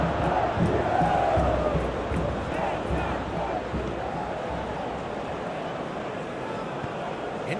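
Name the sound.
crowd cheering after a tackle, from video game PES 21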